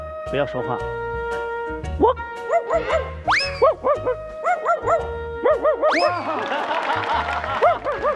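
A pet talking bird mimics a dog barking with a run of close, bouncy, whistle-toned barks and yips in quick bursts. A person speaks briefly among the calls.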